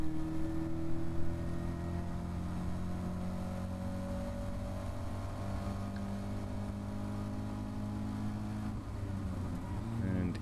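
Caterham race car accelerating out of a chicane onto the start-finish straight during a race, engine note rising steadily in pitch as it pulls through the gear, loud and continuous, with a brief shift near the end.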